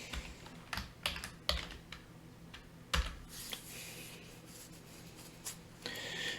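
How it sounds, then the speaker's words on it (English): Fingers tap on a computer keyboard, close and fairly quiet, with irregular clusters of key clicks and a couple of louder strikes. "If I can type."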